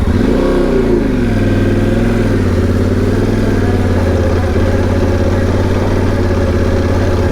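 Motorcycle engine on an off-road ridge ride, idling with a low steady thrum and rising and falling revs, loud and close throughout with no talking.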